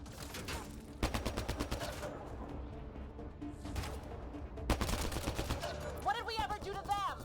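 Video-game gunfire, with fast bursts of repeated shots near the start and again around the middle over a busy mix of effects and voices.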